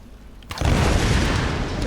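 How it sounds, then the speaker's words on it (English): Explosion in the video game Tomb Raider 2013, a sudden loud boom that bursts in and leaves a sustained roaring rumble of fire and debris, with no talk over it. "See, make explosions over there."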